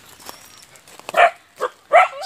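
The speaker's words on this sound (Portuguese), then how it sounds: "Aqui estão os nossos pitbullzinhos." Pitbull dogs bark outdoors, three loud, close woofs spaced unevenly, preceded by softer rustling and faint background noise.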